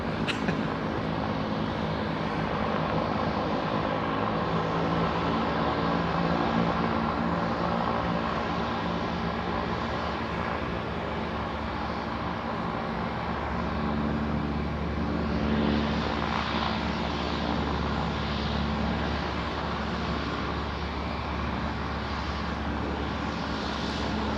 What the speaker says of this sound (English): FedEx MD-11 pushing back there.